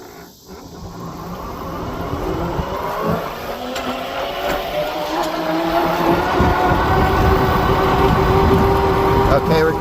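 An electric Farmall Cub tractor pulls a load in third gear, giving a steady rising motor whine with a rumbling drivetrain that grows louder over the stretch, continuous and close.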